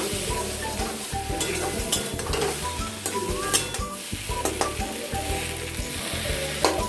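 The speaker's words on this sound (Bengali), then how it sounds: "এবার এর মধ্যে দিয়ে দেব সিদ্ধ করা আলুগুলো।" Boiled potatoes stirred into a sizzling, oil-rich spice masala for a spicy duck egg and potato curry, with constant loud frying, scraping spoon strokes and occasional clinks of the pan.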